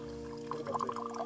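Liquor is poured neat, with no water added, into a glass for a Patiala peg; a short, close trickle and splash follows a low steady hum.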